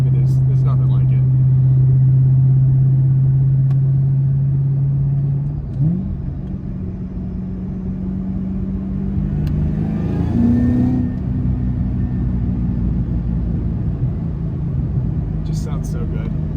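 Terminator SVT Cobra V8 with a stock Eaton roots-style supercharger, its steady engine drone and blower whine rising as the car accelerates, close and loud throughout, with a brief shift around the middle.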